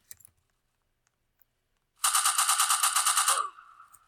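Rapid automatic gunfire in the Roblox game Prison Life, a single sustained burst of evenly spaced shots lasting about a second and a half, loud and close, followed by a brief fading tail after near silence.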